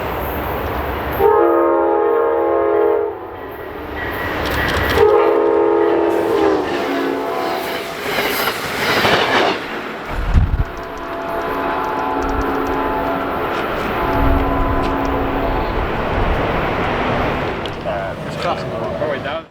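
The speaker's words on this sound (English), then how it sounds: "here came Amtrak Cascades 502, daily service from Portland," Amtrak Cascades 502, a daily Portland to Seattle passenger train, passes nearby with horn blasts and rolling wheel clatter, loud and close, its sound swelling and fading across the scene.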